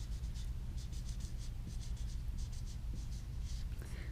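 Pen writing out a fraction division sentence, a quick series of short scratchy strokes in bursts over a low steady background hum, close and quiet.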